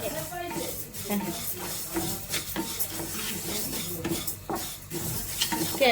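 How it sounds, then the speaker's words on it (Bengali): Black gram dal fries and is stirred in a pan, with scraping spatula strokes, light clatter of metal and a continuous sizzle underneath, close by and moderately loud, with some faint voice in the background. "কালার ডাল রান্না হবে আজকে দুপুরে তাই একটু ভেজে নিচ্ছি"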